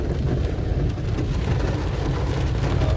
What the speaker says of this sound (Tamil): இதுதான் மழை.